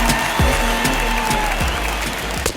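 A baseball stadium crowd at an Angels vs A's game sends up steady applause and cheering, a dense roar of clapping that holds throughout, with a few sharp knocks mixed in.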